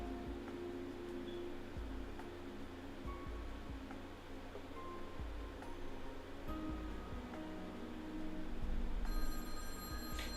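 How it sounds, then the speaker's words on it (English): A telephone rings, a thin, high electronic trill that comes in near the end over a dense background hiss and low rumble, with no voices. "the silence was broken by the sound of the phone ringing"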